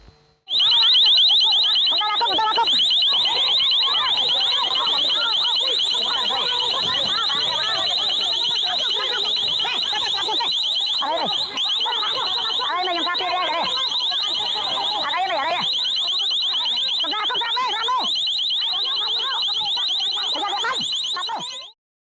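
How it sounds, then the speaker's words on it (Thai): An LRAD long-range acoustic device blares a loud, piercing, warbling alarm tone that holds continuously for over twenty seconds, with faint background noise beneath it. "แก้เผ็ดด้วยเครื่องแอลเรดหรือว่าเครื่องขยายเสียงแบบนี้"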